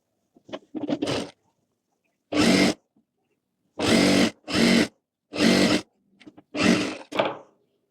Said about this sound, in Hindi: तो पूरे में इस तरह से सिलाई लगा लेंगे